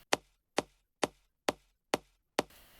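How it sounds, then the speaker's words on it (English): A higher synth bass layer with reverb plays six sharp, evenly paced plucked hits, each bright on the attack and trailing a short reverberant tail, alone without voices. "Then we have another higher layer"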